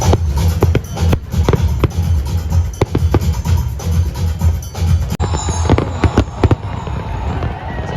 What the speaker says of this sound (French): J'adore les feux d'artifice.